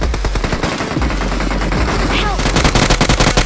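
Rapid bursts of automatic gunfire from PUBG Mobile play nearly nonstop, loud and dense, with sustained volleys and brief gaps throughout.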